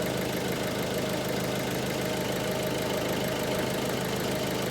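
A Peugeot HDi diesel car engine, one with fault codes P2033, P0299 and P1462, idles at a steady, even drone with a constant low rumble and no voices.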